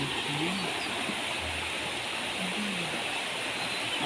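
A flooded river rushes loudly after heavy rain, with a dense, continuous roar of fast-moving water close by and a voice speaking faintly under it.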